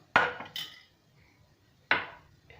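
A spoon clinks sharply against a bowl while yogurt mixture is stirred in one direction: two close knocks, a pause, then another knock and a faint tap, near and otherwise quiet.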